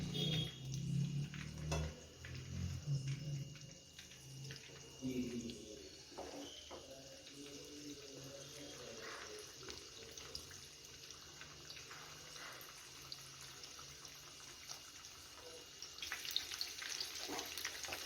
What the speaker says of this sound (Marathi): सोडून घेतले आहे तेलामध्ये मस्त फ्राय करून घेऊया